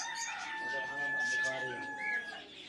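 Chickens and other poultry at a bird market cluck and call throughout the clip, with a steady tonal whine and talk in the background.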